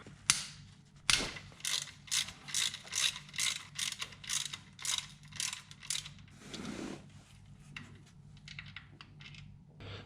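Ratchet wrench loosening a bolt on a Subaru Legacy 3.0 engine during timing assembly work, with a quick run of rhythmic metallic clicks, a brief pause, then more clicking, close and crisp.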